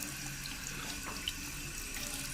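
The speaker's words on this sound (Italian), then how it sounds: "se non hai lo spruzzino e preferisci bagnarla semplicemente con acqua, ti consiglio di bagnarti la mano" Tap water runs from a faucet into a sink as a hand is wetted, a steady close hiss that holds evenly throughout with a slight splash shift partway through.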